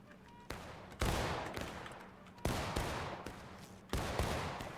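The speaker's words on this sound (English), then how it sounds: "keep shooting, guys. Just shoot over the hill." Gunfire in a multiplayer video game battle, with several loud, sharp volleys booming and echoing out one after another across a few seconds.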